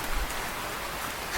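Steady rain pours down in a cartoon forest, a dense even hiss of falling drops with no voices.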